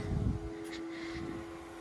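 A Bitcoin miner cooling setup's outside air intake, heard as a steady whooshing fan roar with a soft thump at the start, continuous and fairly faint, no voices.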